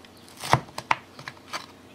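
A knife cuts through an air-fried Trader Joe's broccoli cheddar quiche, giving a few sharp, close crunching taps and cuts in quick succession, the loudest two near the start, with no talking.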